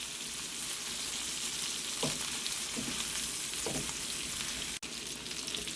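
Kielbasa, pierogi and onions fry in a pan, giving a steady close sizzle and hiss with a few soft stirring scrapes and one brief clatter near the end.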